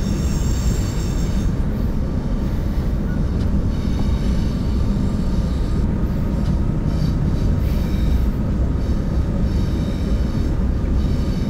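A train in the openBVE simulator on the Birmingham Cross City South line rumbles loud and steady with a constant low roar, faint wheel squeal and metallic tones riding on top throughout.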